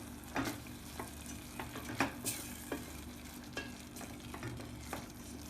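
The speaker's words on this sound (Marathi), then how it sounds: "हे आपण व्यवस्थितपणे मिक्स करून घेऊया आणि गुळ वितळवून घेऊया।" Mango relish with melting jaggery stirred in a pan, a spoon scraping in uneven strokes with a soft sizzle beneath, close and alone.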